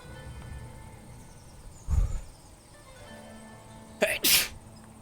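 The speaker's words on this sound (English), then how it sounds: "Gonna sneeze." A single sharp sneeze bursts out around the midpoint, followed by a second louder, noisier sneeze near the end; otherwise quiet room tone.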